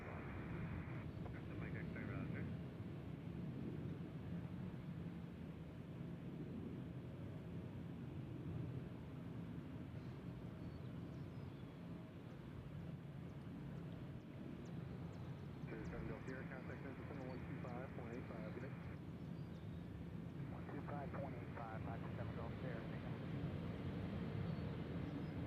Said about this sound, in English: I think we got a copper chopper.